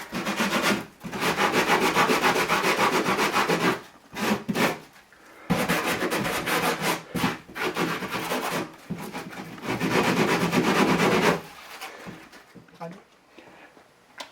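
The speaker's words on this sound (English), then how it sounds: "Now I'm going to sand all the fibers and the paper, filings right there" A drywall patch is sanded by hand, its fibers and paper rasped away in long scratchy strokes broken by brief pauses, loud and close, with someone talking at times.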